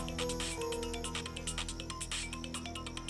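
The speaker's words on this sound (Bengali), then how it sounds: "অফিসের ফোন, একটু কথা বলে।" An office phone rings quietly in an indoor scene, its electronic tone pulsing in a regular, repeating pattern for a few seconds.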